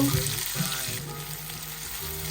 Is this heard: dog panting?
no